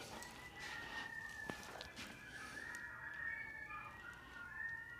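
Rooster-like bird calls ring out over steady outdoor background noise, several long, high cries overlapping across the clip.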